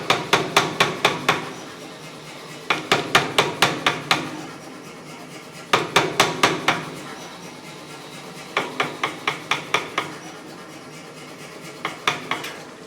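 A power hammer drawing out a square taper on the end of a steel bar, delivering loud, close bursts of rapid rhythmic blows, each run of about six to eight strikes separated by short pauses.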